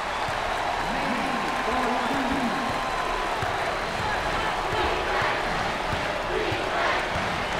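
Basketball arena crowd at a college game between Richmond and Florida, applauding and cheering a favored player in a sustained, broad roar, with commentators talking over the noise.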